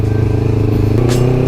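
A high-compression Kawasaki Ninja 250 Fi engine drones loudly and steadily up close while riding, a low rhythmic hum with a brief rising whine near the end.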